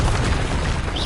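A Bombarda explosion spell goes off in Hogwarts Legacy, a loud, dense blast of rumbling noise sustained for about a second with no pause.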